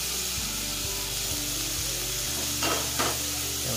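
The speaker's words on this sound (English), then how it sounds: "give it a nice stir" Tomatoes being stirred in a frying pan for scrambled eggs and saltfish, giving a steady close sizzle with a few soft scraping strokes near the end, over a low background hum.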